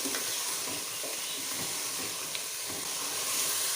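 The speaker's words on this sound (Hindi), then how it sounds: "ये मैंने धनिया और सौंफ को कूट लिया था, ये मैं अब मिला रही हूँ इसमें" Crushed coriander and fennel being stirred into chicken biryani frying in a pot, giving a steady sizzle and hiss with faint scraping stirs throughout, close and continuous, with no talking.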